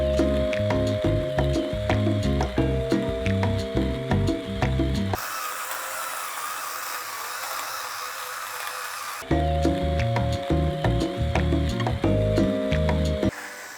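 A JoyResolve Groove compact portable electric grinder grinds coffee for espresso, giving a steady mechanical whir with clicking, ratchet-like texture. The sound is loud and continuous apart from a pause of about four seconds in the middle.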